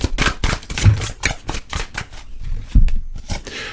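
Tarot cards are shuffled and a card is drawn: a close, crisp burst of riffling and flicking paper clicks that lasts a few seconds, with no voice.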